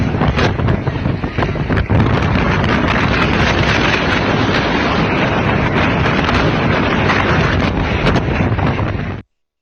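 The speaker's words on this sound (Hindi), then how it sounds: "अमरीकी रियासत टेक्सास में तेज़ हवाओं और तूफान ने शहरियों की ज़िंदगी दांव पर लगा दी।" Strong storm winds in Dallas, Texas buffet the microphone with a loud, continuous rushing roar that holds steady for several seconds before cutting off abruptly.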